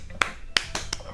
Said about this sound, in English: Wait, I gotta clap.